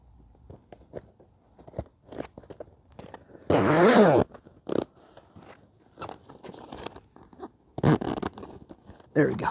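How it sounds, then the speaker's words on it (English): A zipper rasps for about a second as a Bestop soft top is zipped onto its Jeep frame, set among close fabric rustles, clicks and handling noises. "Okay, that's zipped on."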